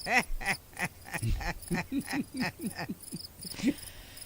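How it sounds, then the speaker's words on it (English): Crickets chirping in quick, evenly spaced bursts, a rhythmic pulsing trill that repeats steadily and stands alone without talk. "Crickets. That's what I'm choosing."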